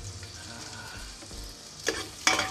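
Garlic frying in a pan for Davao de Oro-style balbacua made with beef skin, a steady soft sizzle close by, with brief louder bursts of stirring toward the end.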